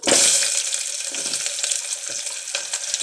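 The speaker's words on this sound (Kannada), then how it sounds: "ಫ್ರೈ ಆಗಿದೆ ಈಗ ನಾನು ಇದಕ್ಕೆ ಈರುಳ್ಳಿ ಹಾಕ್ತಾ ಇದ್ದೀನಿ" Onions go into hot oil already frying with cinnamon, cardamom and cloves for a simple chicken gravy, giving a loud burst of sizzling that settles into a steady crackling hiss.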